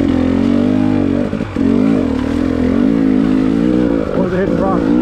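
Dirt bike engines ride a leaf-covered woodland trail in early November, a loud, steady drone that rises and falls close by, with people talking over it.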